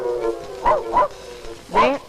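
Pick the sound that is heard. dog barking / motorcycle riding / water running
dog barking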